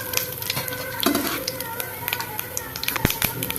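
Cumin, mustard seeds, urad dal and dried red chili crackle and sizzle in hot oil while tempering for a banana stem kootu, with steady frying noise, occasional stirring clinks and some talk.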